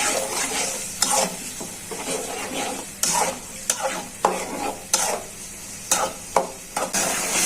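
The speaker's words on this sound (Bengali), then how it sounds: "এখন ভালো করে চিংড়ি মাছটা কষানো হয়ে যায়" Bagda shrimp are stir-fried with spices in a pan, a steady close sizzle under repeated scraping strokes of a spatula that land every half second to second.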